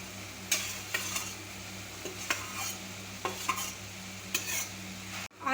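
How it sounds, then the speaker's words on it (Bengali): Mashed potato with spices fries in a pan while a spatula stirs it in regular scraping strokes over a low sizzle, close but fairly quiet, ending in a brief knock. "আলুর সাথে মশলাগুলোকে ভালো করে কষিয়ে নেব 2 থেকে 3 মিনিট।"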